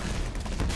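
Shotgun fire in the Black Mesa video game, a rapid run of loud, close blasts packed into a short burst with no pause between shots.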